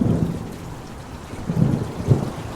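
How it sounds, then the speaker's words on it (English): Thunder from a storm rolls and rumbles in low repeated surges, with heavy rain falling steadily on surfaces throughout and no voices. "You guys hear that thunder?"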